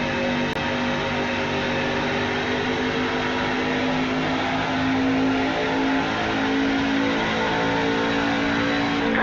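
A V8 race car engine holds a loud, steady, continuous drone on track during a race at Nashville, heard close with no pauses and no talk.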